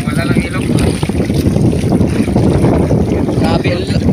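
Strong wind roars steadily across the microphone at sea aboard a fishing boat, loud and constant with waves and rumbling buffeting underneath, while people talk over it.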